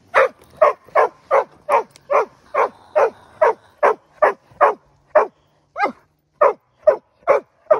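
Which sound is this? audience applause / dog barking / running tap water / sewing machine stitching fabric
dog barking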